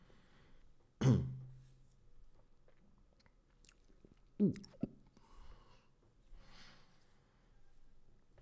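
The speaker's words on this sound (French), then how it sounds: "On t'entend trop déglutir." Swallowing picked up close on a large-diaphragm microphone: two pronounced gulps with throaty clicks, separated by softer mouth and breath noises in an otherwise quiet room, with no speech.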